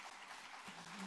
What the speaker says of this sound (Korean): 박수 칠 일 아닌가요?